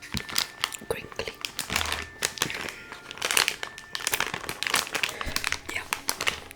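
A Takis chip bag crinkles and crackles close up in irregular, busy bursts throughout, with soft quiet speech faintly present beneath the rustling.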